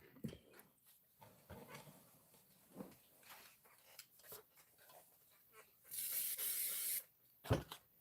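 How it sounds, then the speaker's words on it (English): One short hiss of spray adhesive onto fabric inside a spray tent, steady for about a second, among faint handling clicks and rustles in a quiet room. "give it a little shot of spray in my spray tent right here"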